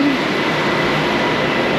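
A Bangkok BTS Skytrain rumbles past near Sala Daeng station, a steady, loud broadband roar of rail wagons filling the street with no pause.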